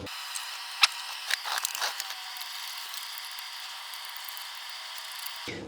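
A ratchet wrench loosens nuts on the heat exchanger of a VW T2 bus, giving a few quiet clicking and ratcheting bursts close by over a steady faint background hiss.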